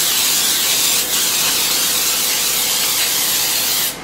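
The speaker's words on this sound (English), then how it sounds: "We're just going to spray this good." Cooking spray hisses steadily onto a pie dish in one continuous close blast lasting about four seconds, with a brief dip near the start before it cuts off.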